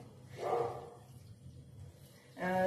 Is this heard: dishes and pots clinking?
no